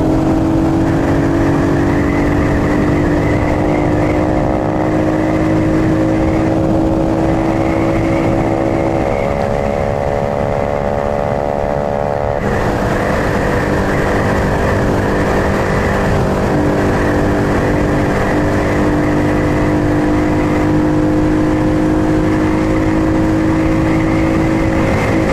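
A Rusi motorcycle riding on a road between Iligan City and Zamboanga City, its engine droning loud and close throughout with shifting pitch as it accelerates, and rushing wind noise over the whole ride.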